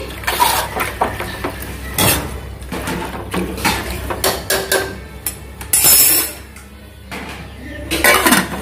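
Onions and green chillies stirred into a pot of boti gongura curry, close, busy metallic scraping and clanking of a spoon against the pot in irregular bursts, with light sizzling underneath.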